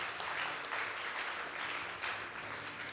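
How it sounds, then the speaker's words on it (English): Audience applause at an awards ceremony, steady, dense clapping from a large crowd filling the whole stretch at an even level. "Get a round of applause."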